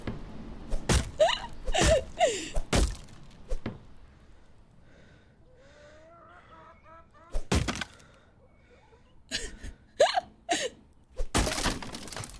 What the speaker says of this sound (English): The freaking tree exploded.